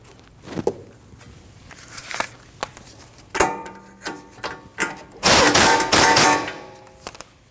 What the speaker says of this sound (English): Now torque that nut down to 35 foot-pounds